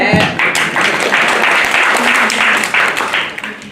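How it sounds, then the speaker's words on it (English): Audience clapping at a public library event on the criminalization of poverty, loud, close and sustained for several seconds before tapering off. "Yeah, we can clap."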